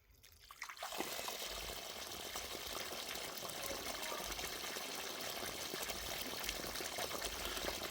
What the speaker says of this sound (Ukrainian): Бачите, ще все, пошла вода.